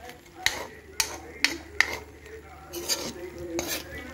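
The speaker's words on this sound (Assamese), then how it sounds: "কলডিলখিনি লৰাই দিম।" Chopped banana flower is stirred in a pan as it fries, with four sharp scraping knocks of a spatula on metal over a faint sizzle, followed by softer rustling stirs.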